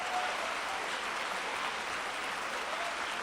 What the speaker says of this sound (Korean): 뜨거운 박수와 환호